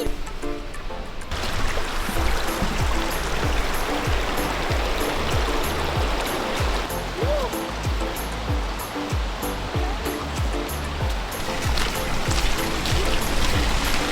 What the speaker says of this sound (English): I can hear some rumbling sounds, maybe coming from the waterfall